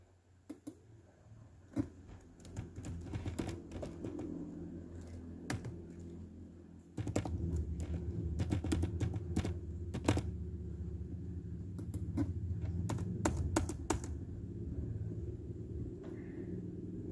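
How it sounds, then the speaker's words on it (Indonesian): Rapid, uneven clicking of a computer keyboard while text is typed into a document, with close, irregular keystrokes over a steady low rumble that grows louder midway. "lalu di sini ketikkan ketua dan sekretaris"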